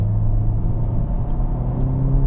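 Turbocharged Honda Civic Type R engine running, a loud, steady low rumble with a faint whir on top, heard close with no talking.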